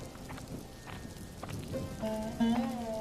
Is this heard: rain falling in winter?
yes